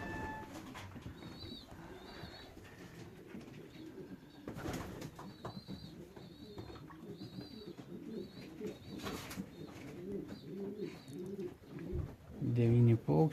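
Racing pigeons at a loft after a 360 km race coo softly and steadily through the scene, with occasional wing flaps and light chirps, while people talk nearby.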